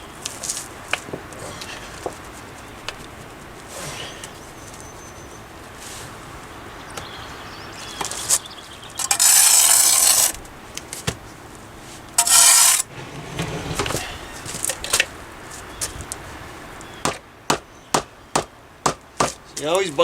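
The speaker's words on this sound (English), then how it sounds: "you always buy a rubber hammer." Rubber hammer tapping concrete retaining wall cap blocks into place outdoors, with a scatter of sharp taps spread through the stretch, a quick burst of several close strikes near the end, and two longer scraping bursts in the middle.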